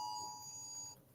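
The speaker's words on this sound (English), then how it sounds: "that's the alarm going off for the hurricane out here" A hurricane warning alarm sounds as a steady electronic tone that holds for about a second and then cuts off, leaving a low background rumble.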